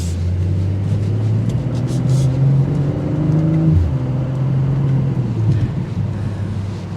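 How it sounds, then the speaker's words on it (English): A 2023 BMW M340i's exhaust note while driving, a low steady drone that rises slightly and dips with throttle, heard from inside the moving car over road noise. "You can inflate that exhaust note inside to make it even more throaty, but even on the exterior it sounds pretty good"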